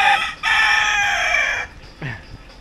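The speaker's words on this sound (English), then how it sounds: "That is for sure the first guard rooster I have ever seen." A rooster crows loudly and close by in one long, strained cock-a-doodle-doo, then breaks off and follows with a shorter squawk, with no voices over it.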